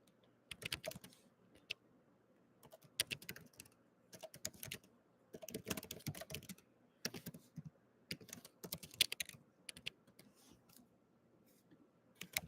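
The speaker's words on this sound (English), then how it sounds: "You probably don't know what I'm typing." Rapid clacking of a computer keyboard comes in irregular bursts with short pauses, close and fairly quiet, no voices.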